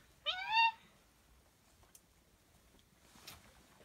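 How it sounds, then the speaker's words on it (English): A single clear, close meow from a cat, followed by quiet with faint small background noises. "There's a cat in here?"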